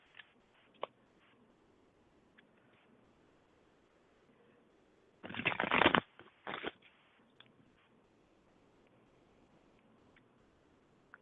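Tarot cards being shuffled during a psychic reading, heard as a short, loud burst of riffling, a quick second flurry after it, then quiet with faint handling ticks.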